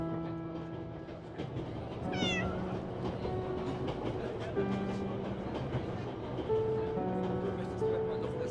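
A cat meows in the video game 11-11 Memories Retold, a brief rising cry over a busy, dense game soundscape with rumbling, train-like rail noise and musical tones underneath.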